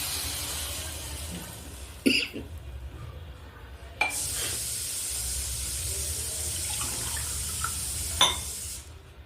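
Water is poured into a yogurt-based vegetable curry for jeet vada, giving a soft continuous splashing and trickling with a few sharp clinks of utensils against the pot, close and fairly quiet.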